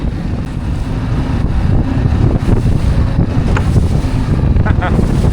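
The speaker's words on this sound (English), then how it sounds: "I gotta show you the waves. Look how big they are and what a mess that they do cause." Big waves crash on a shore as a loud, continuous roar of surf, heavily buffeted by wind noise on the microphone throughout, with no clear talking.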